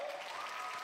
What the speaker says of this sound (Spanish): Un fuerte aplauso otra vez.